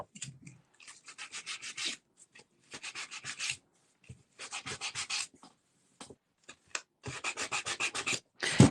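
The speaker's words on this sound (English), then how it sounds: "then I actually am going to just really lightly sand it" Light hand sanding on a freshly colored painted piece: bursts of dry rubbing strokes in quick rhythmic runs, separated by short pauses, close and fairly clear with no talking.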